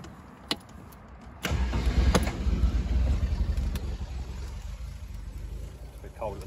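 A Damson MK2 Convertible Vitesse, cold, starting up: a single click and a short crank, then the engine catches and settles into a low, steady rumbling idle, close by, with a brief clack near the end.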